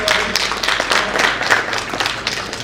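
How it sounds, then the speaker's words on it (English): Audience applause after a presentation at a report launch on industrial livestock systems: dense, steady clapping from a crowd indoors that fills the whole stretch at an even level. "please let's clap for him"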